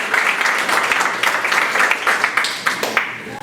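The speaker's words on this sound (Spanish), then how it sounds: "Fuerte aplauso para él." Audience applause at a Tacna anniversary commemoration honoring Jorge Basadre, welcoming the president of the Club Departamental Tacna; steady, dense clapping sustained throughout at moderate loudness.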